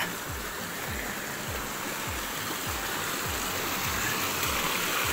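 A river stream flowing near Puray Falls in Montalban, Rizal, a steady close rushing wash of water with low gurgling pulses repeating underneath, no voices.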